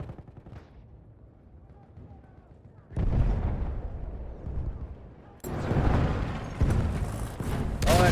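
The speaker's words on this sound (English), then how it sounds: "Tank knows they've got some contacts up there, putting some heavy shots down." Heavy tank cannon shots in a competitive platoon championship video game: two loud, booming blasts with rumbling tails land a few seconds apart, breaking up a quieter low rumble, with a faint voice in the background.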